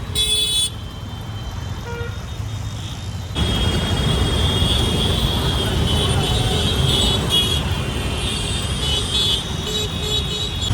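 Heavy road traffic on a busy Mozamjahi Market street in Hyderabad: a steady roar of engines with repeated honking horns, loud and close, while someone talks over it at times.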